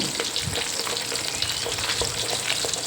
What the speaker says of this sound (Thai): ปลาทูนึ่งทอดนะคะ ทอดให้เหลืองทอดให้หอมนะคะ